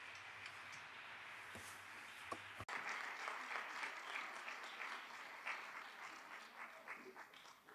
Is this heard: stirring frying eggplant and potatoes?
no